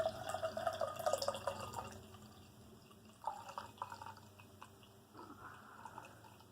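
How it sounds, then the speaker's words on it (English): Belhaven Scottish Ale pours from a widget can into a glass, a quiet liquid trickle and splash that comes in short bursts with pauses between, faint and close, alone. "We're going to go ahead and pour this."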